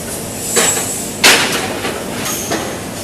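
A 1,000-ton aluminum extrusion press runs in a factory, giving loud metallic clanks and hisses: a sharp bang near the middle, softer knocks before and after, over a steady industrial hum.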